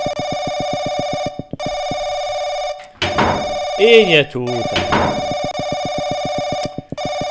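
A telephone bell rings loudly in the Paranoiac video game, a steady trilling ring that repeats in bursts, stops briefly and then resumes, while someone talks excitedly over it in the middle.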